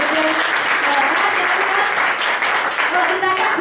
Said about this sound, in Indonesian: Kasih tepuk tangan dong buat Prudential.